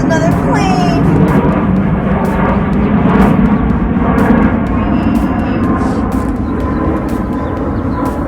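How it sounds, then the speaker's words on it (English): Airplane passing overhead outdoors, a loud, continuous engine roar that swells and lingers, with birds chirping and a person talking over it. "There comes another plane."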